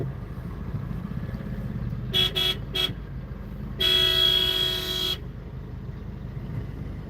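A vehicle horn sounds in traffic: three quick short toots, then one long sustained blast, over a steady low engine rumble.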